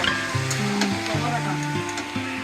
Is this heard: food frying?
yes